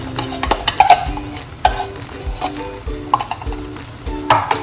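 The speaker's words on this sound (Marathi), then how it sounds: "आता हे कंडेन्स मिल्क आणि शिरा पूर्ण परतून घेऊ आणि पूर्ण त्याला एकजीव करून घेऊ।" Carrot halwa cooking with condensed milk is stirred in a pan, giving repeated close scrapes and light clinks of a metal spoon against the pan in an uneven rhythm with no talk.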